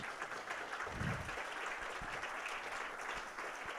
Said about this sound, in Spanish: Se dan un fuerte aplauso a ustedes